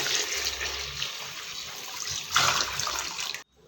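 Water pours steadily into broken rice for a Coorg breakfast dish, a constant splashing rush that swells briefly near the end before stopping abruptly.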